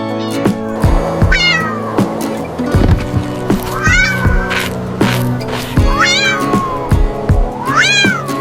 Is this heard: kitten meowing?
yes